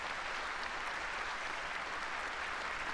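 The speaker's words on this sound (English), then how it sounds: "round of applause." Steady, dense applause from a large audience at a national commemoration ceremony for the anniversary of the March 1st Movement, sustained and even for the full stretch with no voices above it.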